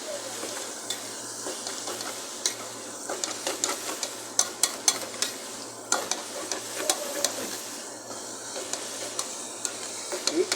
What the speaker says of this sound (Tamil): உப்பு போடலாம் போட்டு கொஞ்சம் கிண்டி விடலாம்